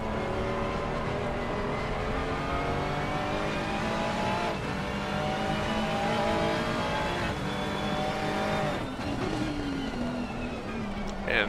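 The number 313 Euro Titans Endurance BMW race car at a 24-hour endurance race sweeps past, its engine note rising and shifting through gears under a steady circuit roar, with faint commentary in the background.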